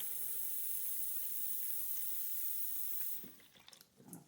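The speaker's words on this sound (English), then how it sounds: "Putting plenty of water in there." Water is poured into a seed starting tray, filling it about halfway: a steady, close hissing pour for roughly three seconds, then it stops and a few soft handling knocks and clatters follow.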